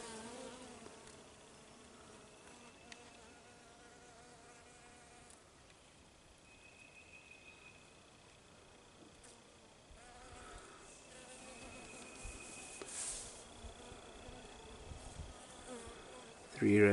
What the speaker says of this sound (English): And that buzzing is all honeybees.